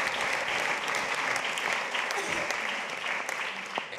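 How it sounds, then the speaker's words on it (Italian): A theatre audience at the Nuovo Teatro Sanità in Naples' Rione Sanità applauds steadily for the whole stretch, a dense, close wash of clapping with no voices over it. "fatevi un grande applauso, grazie"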